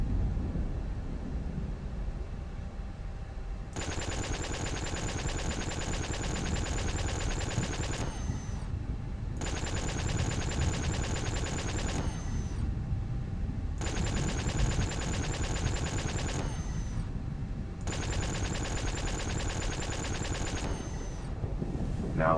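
Spaceship weapons fire in the space game Spacebourne, drawing on the ship's energy module: four sustained bursts of rapid, steady shots, each lasting about four seconds, separated by short pauses over a constant engine-like rumble.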